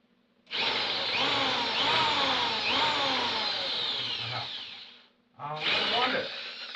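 A power drill running in reverse while countersinking screws into wood whirs loudly and close for about four seconds, stops briefly, then spins up again for a second short run.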